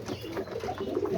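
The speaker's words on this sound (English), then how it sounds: "the dad pigeon right there." Homing pigeons cooing softly in a loft, a continuous low murmur of overlapping coos close by with no talking.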